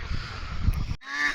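Khaki Campbell laying ducks give a short burst of honking, nasal calls in an afternoon setting: a rough, noisy stretch, a brief gap, then a clearer, tonal call close by.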